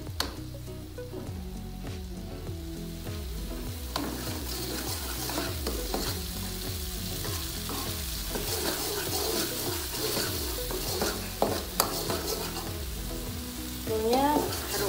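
Tom yam spice paste is stir-fried in a pan, with a steady crackling sizzle and repeated rhythmic scraping strokes of a spatula throughout, up close and fairly loud, ending with a brief brighter splash-like burst.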